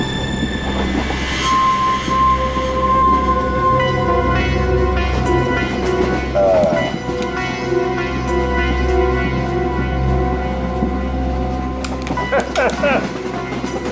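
A moving train rumbles steadily with rolling wheel noise and a brief squeal, loud and continuous throughout, while people talk over it.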